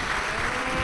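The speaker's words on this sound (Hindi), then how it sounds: "एक बार जोरदार ताली बजाकर" A crowd claps loudly at a Shiv Mahapuran katha gathering, a dense, even wash of applause over a short burst with no break.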